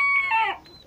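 A young rooster at a breeding yard lets out a single short, thin crow, brief and slightly strained, close by in a quiet setting.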